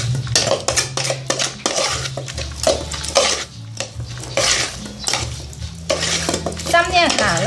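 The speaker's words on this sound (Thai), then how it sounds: "ให้ยกขึ้นสูงๆแล้วคนให้เข้ากัน" Catfish larb being stirred and tossed in a bowl, with repeated clinks and scrapes of a spoon against the dish in an uneven rhythm, close and fairly loud. A voice is briefly heard near the end.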